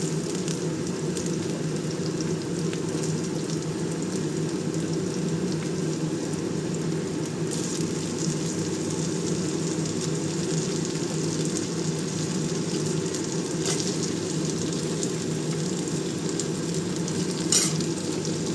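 Onion lightly fried and stirred in a pan for a home-cooked hilsa fish head and pui shak chorchori, a steady close sizzle with soft stirring scrapes running throughout, no voices.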